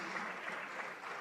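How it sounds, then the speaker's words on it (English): Faint, steady applause from a conference audience as a chief operating officer walks on stage, a continuous wash of distant clapping. "A round of applause for Mr. Afolabi Shobande as he joins us on stage."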